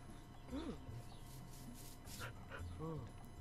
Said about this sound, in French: Bon chien.